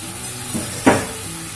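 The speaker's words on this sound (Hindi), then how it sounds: "अब इसको हमको फ्राई करना है, तो इसमें हम थोड़ा सा आलू डालेंगे।" Potato pieces hitting hot peanut oil in a kadai and being stirred, giving a short bright sizzle burst over a steady low frying hiss, close and alone.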